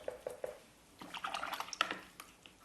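Paintbrush heavily loaded with paint dipped and swished in a water pot, a few soft drips at first, then a burst of sloshing, splashing clinks before it fades, no talk.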